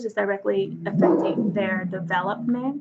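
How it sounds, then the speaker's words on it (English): A pet dog barks and yips during a lecture, with its short sharp calls blending into steady continuous speech that stays louder throughout. "sorry, that's my dog"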